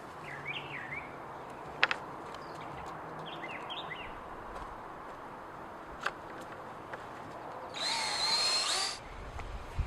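A drill drives a 1.5 inch Spax screw into a wooden square foot garden bed outdoors, one brief whir lasting about a second amid soft birdsong and faint ambient noise.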